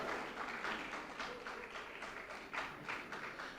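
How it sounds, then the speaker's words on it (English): A small audience applauds the Minister for Food and Agriculture at a memorial gathering, scattered clapping that is faint and distant, pulsing in uneven bursts across the short stretch. "A round of applause for the Honorable Minister for Food and Agriculture"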